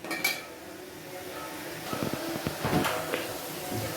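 Vegetables are stirred in a salted cooking pot for a tamarind curry, giving intermittent scraping clinks and knocks of a spoon against metal that grow busier toward the middle, fairly close and moderately loud with no voices.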